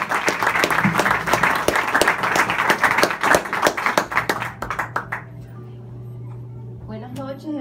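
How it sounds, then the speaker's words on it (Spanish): Church congregation clapping loudly together for several seconds before the applause tapers off into a quiet room where a voice begins speaking. "Denle un fuerte aplauso a Jesús"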